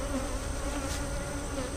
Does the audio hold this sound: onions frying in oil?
no